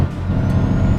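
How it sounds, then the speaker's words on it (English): Heavy truck air brakes hiss with the engine brake engaged in Euro Truck Simulator 2, a loud, close, low rumbling drone under a steady brake hiss, with no talking. "let's just keep our Jake on and hit our brakes a little bit"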